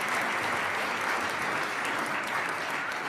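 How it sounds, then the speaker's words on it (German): A studio audience at a German talk show applauds, a steady, even wash of many hands clapping at moderate volume with no talking over it. "Einen großen Applaus für unseren Handyanlasser"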